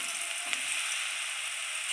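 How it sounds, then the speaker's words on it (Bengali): Eggplant frying in hot oil in a wok hisses in a steady, dense sizzle at close range, with one brief crackle and no voices. "এবার বেগুনটা দিয়ে দিচ্ছে কড়াই ভাজার জন্য।"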